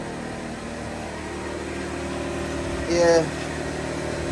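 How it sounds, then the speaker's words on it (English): An electric tire inflator hums in a steady, low mechanical drone throughout, with a brief whining rise near the end; someone speaks a word over it. "So got my air pump right here."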